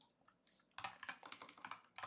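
Computer keyboard typing during a coding session, a quiet pause followed by a quick run of close, crisp key clicks in irregular bursts.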